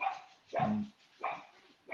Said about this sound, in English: The dog running around.